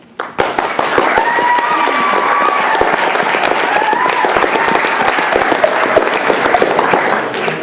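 A school audience claps loudly as grade 10 students walk onto a stage, dense sharp hand claps starting abruptly and continuing steadily, with some faint cheering mixed in.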